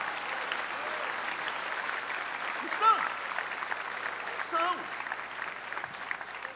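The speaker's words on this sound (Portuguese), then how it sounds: "Dá uma salva de palmas para Jesus," A church congregation claps for Jesus during an evening service, a fairly quiet, continuous patter of hands with voices faintly rising over it now and then.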